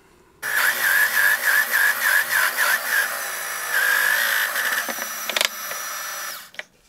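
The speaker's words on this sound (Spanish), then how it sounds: "señalo el centro y hacemos esos taladros" A power drill whirs in repeated short bursts close by, drilling holes in a wood board and pausing between holes, followed by a few knocks and clatters as it stops.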